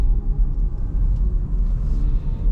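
A steady low motor hum and road rumble from inside a 2024 Kia EV6 Wind AWD electric car accelerating, fairly loud and continuous, no voices.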